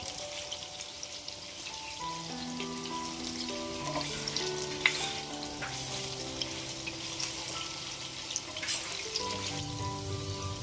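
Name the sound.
jackfruit fritters frying in oil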